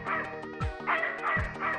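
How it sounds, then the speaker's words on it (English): A dog in a horror video game gives several short, clear yipping barks in irregular bursts against a tonal musical backdrop, with no talking. "Good dog, good girl, Alice."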